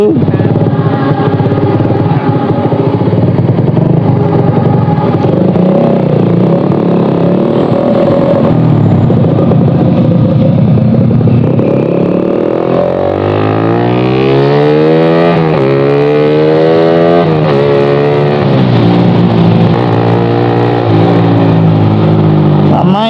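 Suzuki Satria FU 150 motorcycle engine revving, a loud close drone that rises and falls in pitch through repeated throttle sweeps, with someone talking over it.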